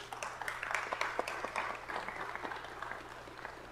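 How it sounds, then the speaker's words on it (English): Scattered clapping from a crowd at a Los Angeles city council meeting, a moderate, uneven patter of hands over a low steady hum, with no talking. "Can we give a round of applause to his alum too?"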